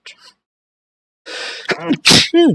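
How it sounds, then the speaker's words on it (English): A single loud sneeze close to the microphone, with a quick breath intake before it and a short voiced gasp after, in a quiet room. "Just sneezed."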